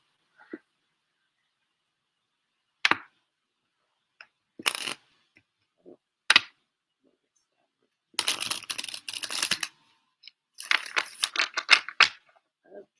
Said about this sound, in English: Got my cards to shuffle this deck.